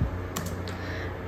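Typing on a computer keyboard during a Mac OS 10.2 Jaguar virtual machine installation: a few quick, light key clicks over a steady hum of background noise.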